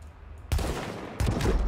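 Gunfire in The Division video game comes as two loud bursts of rapid shots, each starting abruptly and continuing for about half a second, with quieter game ambience before them.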